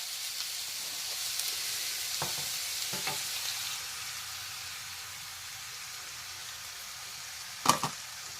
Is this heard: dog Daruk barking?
no